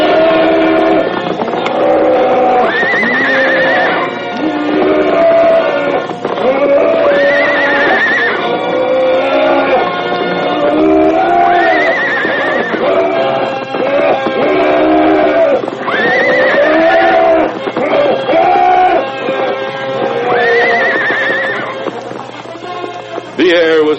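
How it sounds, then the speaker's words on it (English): In a radio drama battle between a horse and a buffalo, a horse whinnies and neighs repeatedly in shrill bursts over a continuous dense background of effects. "The air was filled with bellows and whinnies of rage and defiance."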